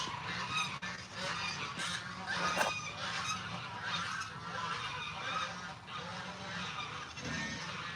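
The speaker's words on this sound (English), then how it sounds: "One of the geese are trying to mate right now." Geese honk repeatedly and loudly close by, one trying to mate, overlapping calls from a noisy flock on a farm with pigs, with squawks and background chatter from other fowl.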